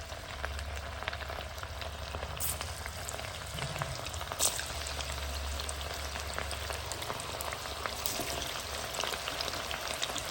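Battered cauliflower gobi frying in hot oil, giving a steady, dense crackling sizzle with scattered pops throughout, close and continuous with no talking.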